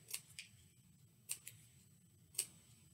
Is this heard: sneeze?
no